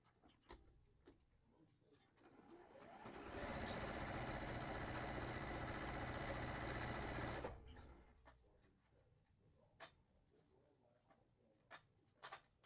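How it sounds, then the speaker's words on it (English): A sewing machine stitches pink floral quilt fabric. After a quiet start with faint ticks it runs loud and steady for about four seconds, then stops, leaving a few soft clicks and handling sounds. "So the lighter pink floral is getting sewn on now to create our square and a square."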